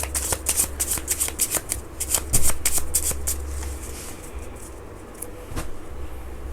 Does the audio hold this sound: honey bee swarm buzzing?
no